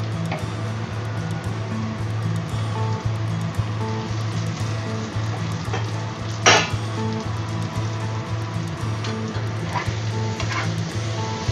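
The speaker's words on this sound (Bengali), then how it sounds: "এবার আমি পটলটাকে অ্যাড করে দিচ্ছি" Pointed gourd (potol) frying in oil with spices in a Bengali kitchen, a steady dense sizzle with occasional utensil clinks and one sharper scrape midway.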